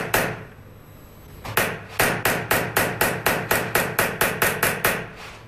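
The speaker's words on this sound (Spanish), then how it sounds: "Trabajando la cara interna con una punta roma y un martillo, se sacan los relieves de la pieza." Hammer strikes on a blunt punch shape a metal sheet in repoussé work, with a couple of blows, a pause, then a run of about a dozen sharp, evenly spaced metallic taps close by.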